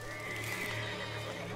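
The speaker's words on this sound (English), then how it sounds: "Our horses are calling us." Horses neigh in a Wild West setting, one drawn-out whinny sounding close and fairly loud over a faint background.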